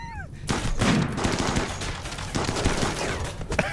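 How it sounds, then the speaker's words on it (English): Rapid volleys of bow shots and impacts during a RimWorld video game battle, a dense, loud crackle of overlapping hits with a few sharp peaks near the end. "Listen to those bows go."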